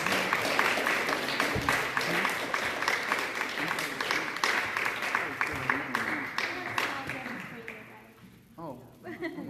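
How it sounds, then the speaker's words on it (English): Applause from an audience at a youth-focused talk, a steady patter of clapping that gradually fades out toward the end, with voices mixed in. "Can we give a round of applause?"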